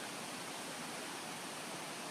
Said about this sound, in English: And so right now riding beside this crickety creek.